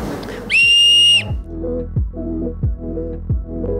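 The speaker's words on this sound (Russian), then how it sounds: "Есть свистулечки." A toy whistle at a New Year craft fair in Ulan-Ude, Buryatia gives one loud, bright, sustained tone lasting under a second, followed by quieter rhythmic pulsing sounds.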